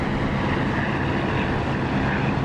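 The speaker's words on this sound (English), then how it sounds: "This is the Echo 19 engine sound for the Spit, better than the DCS sound." The Spitfire's piston engine in the DCS flight simulator, using the Echo 19 sound mod, gives a steady, loud, dense drone that fills the whole stretch without pause.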